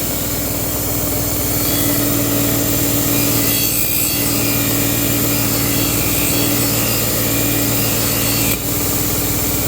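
A 120 grit belt grinder sands a Japanese knife blade with a continuous, loud abrasive whir, holding steady with a brief dip in tone near the end.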